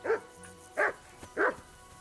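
A dog in the video game Kingdom Come: Deliverance II barks three times in an evenly spaced series, close and clear over a quiet background.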